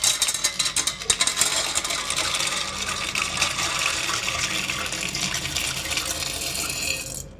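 Water is poured steadily into a bowl of kidney beans to soak them, a continuous splashing, gurgling stream close by that runs for several seconds and then stops abruptly.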